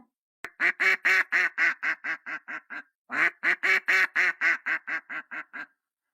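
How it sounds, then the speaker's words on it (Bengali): A cartoon duck quacking in two quick runs of loud, evenly paced nasal quacks, about ten in each burst, with a short pause between them. "ও মা, কি সুন্দর হাঁস! এত সুন্দর হাঁস আমার বাড়িতে কোথা থেকে এলো?"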